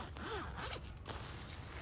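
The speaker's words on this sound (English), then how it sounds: "Look at this zipper." Zipper on a down sleeping bag being pulled, a couple of quick close rasping strokes followed by a soft, quiet pause.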